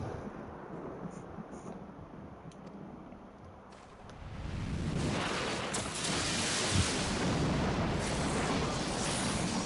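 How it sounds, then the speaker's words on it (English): A massive lightning bolt strikes in Final Fantasy XIV, its thunder building into a loud, sustained broadband rumble that swells midway and holds steady, drowning out fainter earlier game ambience. "a massive bolt of lightning there"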